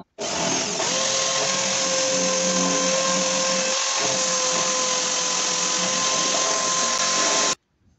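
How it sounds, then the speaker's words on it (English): A power drill with a 1/4 inch bit whines at a steady pitch for about seven seconds, loud and close, drilling holes in a metal transmission bracket, then cuts off abruptly. "so I can drill them, and hopefully with this 1/4 inch drill bit."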